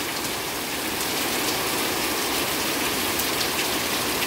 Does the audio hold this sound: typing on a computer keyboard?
no